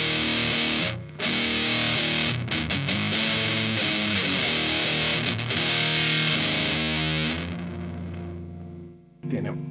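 An electric guitar played through a fuzz pedal that replicates the Big Muff: thick, heavily distorted sustained chords ringing loud and continuous, then fading near the end.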